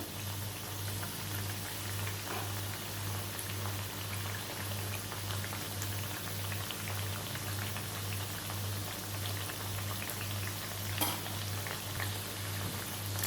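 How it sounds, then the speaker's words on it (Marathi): Aluvadi, colocasia leaf rolls, fry until crisp in hot oil, giving a steady, even crackling sizzle with faint pops over a low, constant hum, with no talking. "छान अशा खरपूस अशा आपण त्या फ्राय करून घ्यायच्या आहेत दोन्ही बाजूने."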